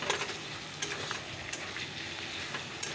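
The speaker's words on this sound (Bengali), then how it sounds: "ঝিঙ্গে আলু দিয়ে মাছের ঝোল করছি চলো মশলাটা অল্প কষিয়ে দেবো" Spices sizzle and fry in a pan for a ridge gourd, potato and fish curry, a steady close crackling hiss with small pops and stirring scrapes throughout.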